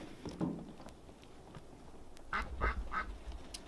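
Quiet quacking from ducks nearby on a farm, a few short calls scattered over a soft background with faint shuffling.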